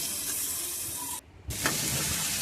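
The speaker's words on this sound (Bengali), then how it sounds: "জিরে গুঁড়ো দিলাম জিরে ধনে সব কিছু দিয়ে দিলাম ভালো করে কষিয়ে নিচ্ছি" Ground cumin and coriander sautéing in a pan with a splash of water for an aloo paneer biryani, a loud steady hiss and sizzle that cuts out briefly and then resumes.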